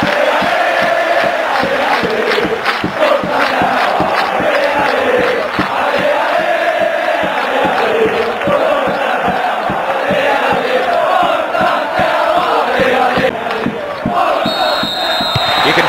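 Stadium crowd in a PES6 football match between Lyon and Steaua Bucuresti, a loud, sustained roar with surging chants and cheers filling the whole stretch without a break.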